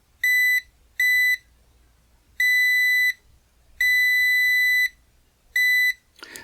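A TESMEN TMM-569A multimeter on continuity test sounds five loud, close electronic beeps of a single high tone, some short and some held longer, separated by silence.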